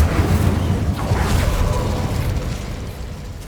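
The Incendio fire spell in Hogwarts Legacy erupts as a loud, dense whooshing burst of flame that rumbles low and slowly fades over a few seconds.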